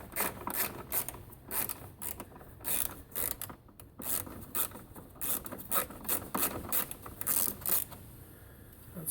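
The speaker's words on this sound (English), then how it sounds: "So we take our T30 Torx screwdriver" Bolts on a Skoda Superb 1.9 TDI PD engine being undone with a T30 Torx screwdriver during timing belt and water pump work, giving repeated close ratcheting clicks and scraping metal turns in short bursts, with no talking.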